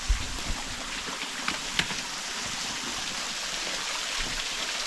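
Steady broadband rush of a waterfall at Mt Mee, continuous and fairly close, with a few faint clicks or knocks near the start and no voices.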